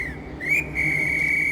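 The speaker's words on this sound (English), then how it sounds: "Yes, but you have to take this whistle. Oh yes, if you run around the station, blow it as loud as you can" A loud, sustained whistle is blown in the video game Gerda: A Flame in Winter, starting with short shrill toots and then holding a long steady high tone.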